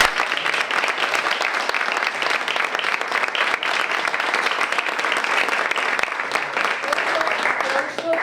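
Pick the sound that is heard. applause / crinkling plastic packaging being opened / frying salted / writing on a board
applause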